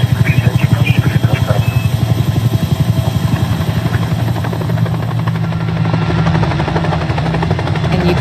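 A helicopter's rotor beats rapidly and loudly, then settles into a steady engine drone with the thumping less pronounced.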